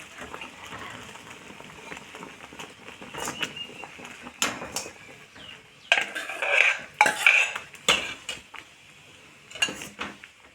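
A mashed mixture gets added bit by bit to jaggery syrup in a pot for traditional sakkarai pongal. A metal spoon clinks and scrapes against the pot in irregular bursts, louder in the second half, with no speech.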